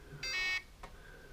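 A FlySky i6 radio transmitter sounds its low-battery voltage telemetry alarm, a single short electronic beep, faint and close, over quiet room background.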